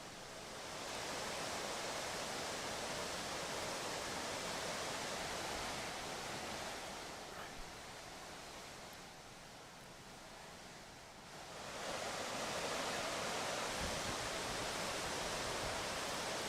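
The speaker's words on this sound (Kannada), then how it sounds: "ಡ್ಯಾಮ್ನಿಂದ ಮಾರ್ಕಾಂಡೇಯ ನದಿಗೆ ನೀರು ಬಿಡುಗಡೆಯಾಗಿದೆ." Water pours through opened gates of the Rakaskop reservoir dam near Belagavi into the Markandeya river, a steady broadband roar of rushing water that dips briefly in the middle before surging back, with no voices.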